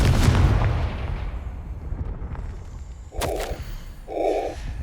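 A Confringo fire spell cast in Hogwarts Legacy opens with a loud whooshing blast that decays, followed by two bright electronic chime-like effects, with no talk.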